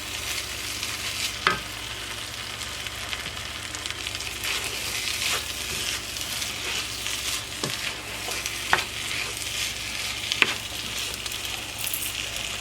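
Fresh corn, with pieces of the stalk bottom in the mixture, cooks down in a skillet with a steady, soft sizzle and bubbling, broken by a few faint clicks and taps of a utensil.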